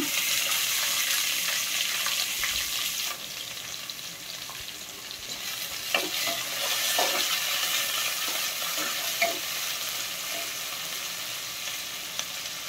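Onions hiss and sizzle steadily in hot oil with tempering spices and green chillies, with occasional soft clinks and scrapes of stirring.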